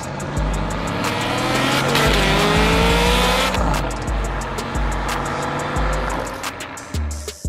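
A car engine revs hard while tires squeal in a long, loud burst, the engine pitch climbing and falling with a race-like roar that fades near the end.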